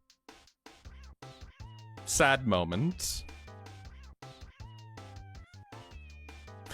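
Kittens meowing in a string of short, high cries, one louder drawn-out wail rising above the rest, while a person talks over them.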